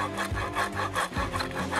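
The toothed edge of a survival shovel saws through wood in quick back-and-forth strokes, about six rasping passes in under two seconds, close and without any talking.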